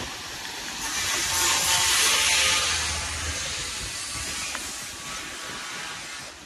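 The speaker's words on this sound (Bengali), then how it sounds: "ট্রেন আসছে" A train passing nearby, a broad loud rushing rumble and hiss that swells over the first few seconds and then eases off slightly while continuing steadily.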